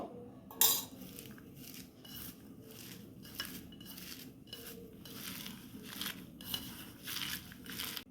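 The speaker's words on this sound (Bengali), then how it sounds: "প্রথমে ফুলটাকে একটু লবণ দিয়ে চটকে নেব।" Drumstick flowers being mashed by hand with salt in a bowl, giving soft repeated squishing and crinkling bursts at a steady rhythm, close and fairly quiet, with faint clinks of a dish.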